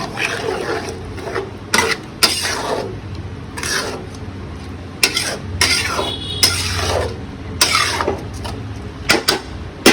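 A spoon scrapes and stirs onions with coconut oil in a pan while a green mango chicken masala cooks, in irregular bursts of close scraping and clinking.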